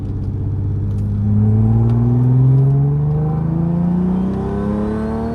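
An Acura NSX sports car engine rumbles, then revs up through rising gear pitches and pulls away on the street, loud and close, with no voices.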